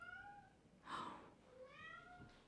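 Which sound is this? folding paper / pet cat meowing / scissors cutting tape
pet cat meowing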